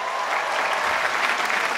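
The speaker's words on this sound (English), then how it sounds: "Round of applause, everyone." A large audience at an awards ceremony, the AFRIMA 2017 event, claps steadily in a dense, continuous burst of applause filling the hall.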